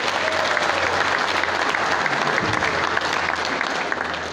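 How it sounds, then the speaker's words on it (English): A crowd at a racing event applauds loudly and continuously for a race car driver, a dense, sustained roar of clapping with faint crowd murmur underneath. "Man, let's give him a big round of applause."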